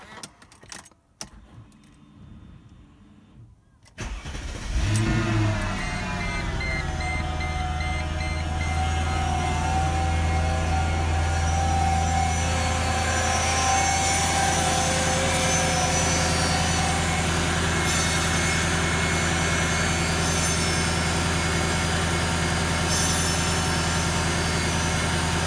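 A modern performance V8 fitted with old-school spark plugs cranks and catches after a few seconds of quiet, then settles into a loud, steady, close idle that holds for the rest of the time with no talking.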